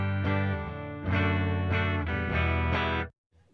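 A clean electric guitar on the bridge pickup plays a few sustained chords and notes with a bright, twangy tone, ringing out then cutting off abruptly.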